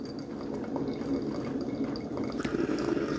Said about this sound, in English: now what the remaining water is just draining out of the brew basket.